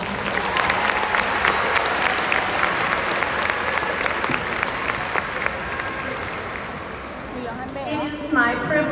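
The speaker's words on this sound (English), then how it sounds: "Please give them all a round of applause." Loud, sustained applause from a graduation ceremony audience welcoming students about to receive diplomas, dense clapping that gradually thins, then a speaking voice rises near the end.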